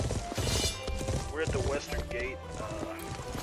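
Horse hooves clatter with a whinny partway through, from a horse in a video game, heard under game sounds while a person talks over them.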